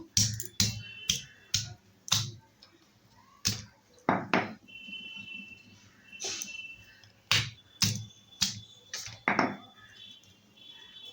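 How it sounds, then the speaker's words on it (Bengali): Sharp, irregular pounding strikes crush taro stolons (kochur loti) in a kitchen, each thud close and distinct, coming in quick clusters with short pauses between. "কচুর লতিগুলোকে ভালো করে একটু থেতো করে নেব খুব বেশি করবো না হালকা ফুলকা করে থেতো করব"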